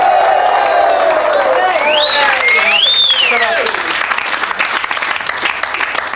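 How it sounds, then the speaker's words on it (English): A studio audience applauds a fire eater with dense, sustained clapping and some cheering, steady for about four seconds and then thinning. A voice talks over the clapping. "Let's have a round of applause for Kay."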